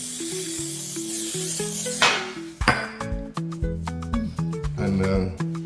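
A baking tray is handled in a home kitchen while buttermilk biscuits are made from scratch, with metallic clinks, clatters and knocks arriving in an irregular run, fairly close and distinct, over a low background hum.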